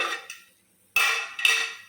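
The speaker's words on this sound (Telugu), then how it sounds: "మూత తీసుకుందామండి ఒకసారి" Metal clinks and scrapes: a lid is lifted from a pot of tamarind tomato rasam with a sharp clank, a brief pause, then two more ringing metallic knocks close by.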